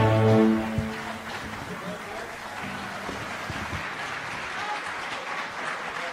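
Church congregation at a biblical seminar applauding after a sung hymn, a sustained wash of clapping following a fading musical note, with some voices mixed in.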